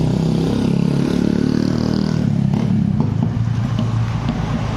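A Yamaha XSR 155 motorcycle engine with a rough-running condition idles at close range, a loud, steady, low rumbling drone with light mechanical clatter.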